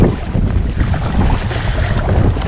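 Strong wind buffets the microphone while kayaking on Loch Lomond in winter, a steady loud rushing roar with choppy water underneath, continuous for the whole stretch with no voices.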